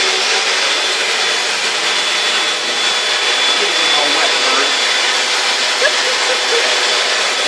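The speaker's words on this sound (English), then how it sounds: "We have to take a bath because the vacuum's on?" A household vacuum cleaner runs steadily indoors, a constant loud whirring roar with no change in pitch, while pet birds are nearby.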